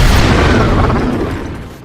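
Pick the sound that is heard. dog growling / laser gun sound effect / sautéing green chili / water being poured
laser gun sound effect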